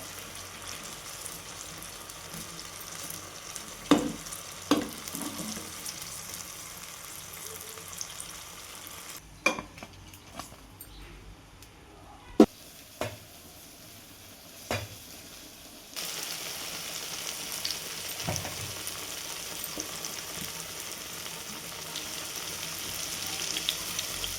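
Stuffed chilli and potato bhajis fry in hot oil, a continuous close sizzle with occasional clinks and stirring knocks, briefly quieting midway before the bubbling hiss returns louder.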